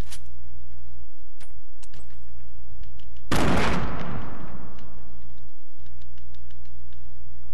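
Gunfire in a multiplayer shooting video game, with a player firing miniguns: a loud sudden burst of shots and impact noise mid-clip, flanked by quieter scattered ticks and pops over a low steady hum.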